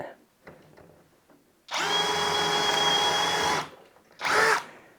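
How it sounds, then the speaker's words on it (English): A Saker 20V brushless cordless drill with a 6mm bit whirs steadily for about two seconds, then gives a brief second burst, with faint handling noises and quiet voices around it. "That thing drills really nice. That was fast."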